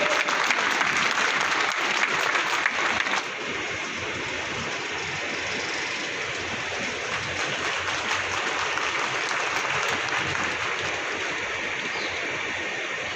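Sustained, dense applause from a large crowd at a Hindi-language political gathering for Ambedkar Jayanti, steady and loud throughout, with no speech over it.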